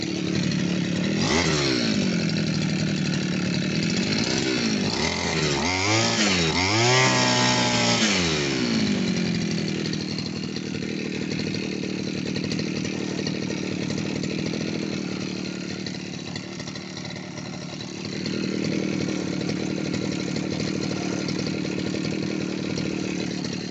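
A petrol brush cutter's small two-stroke engine runs steadily and close by, revving up and down in sharp bursts early on before settling into a loud, even buzz with a brief dip in level midway.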